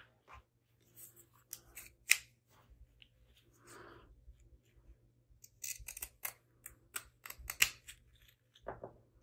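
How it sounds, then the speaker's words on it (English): Pinking shears cutting fabric up close and quietly, a series of crisp snipping crunches in uneven bursts with short pauses and faint rustling between cuts, no speech. "I'm actually going to cut it with my pink shears, I think."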